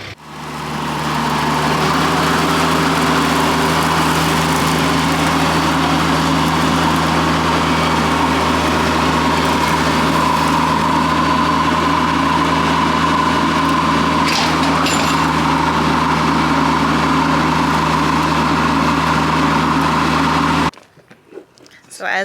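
A tractor engine runs steadily with a bush hog mower hitched behind, a loud continuous drone that holds for about twenty seconds before cutting off abruptly.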